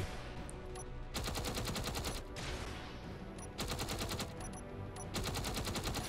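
Ship-mounted weapons firing in Space Engineers, rapid automatic bursts in several volleys separated by short pauses, steady and fairly quiet over a constant background drone.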